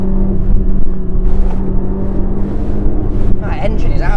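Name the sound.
Peugeot 206 engine revving loudly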